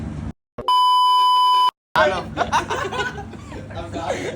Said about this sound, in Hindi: अब उस पे बीप लगाऊंगा मैं